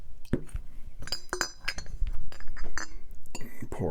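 A Canadian Club whiskey bottle and shot glass clink and knock sharply among handling noises, with someone talking over them up close.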